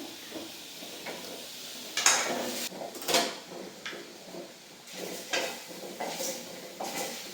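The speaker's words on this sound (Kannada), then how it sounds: "ಈಗ ಚೆನ್ನಾಗಿ ಫ್ರೈ ಆಗಿದೆ ಬೆಂಡೆಕಾಯಿ ಎಲ್ಲ" Okra and tomato fry in a pan with soft sizzling, punctuated by several clear scraping stirs of a spatula against the pan and occasional clinks of utensils; no one speaks.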